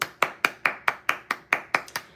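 Hands clapping in a steady, even rhythm, about ten sharp claps in two seconds, close and clear with no voices.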